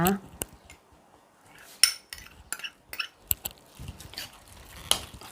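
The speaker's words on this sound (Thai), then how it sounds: "คลุกนมสดกับแป้งข้าวโพดให้เข้ากันก่อนค่ะ" A utensil stirs and clinks against a bowl while milk and cornstarch are mixed for a marinated pork dish, giving irregular sharp taps and scrapes with short quiet gaps and soft wet squishing between.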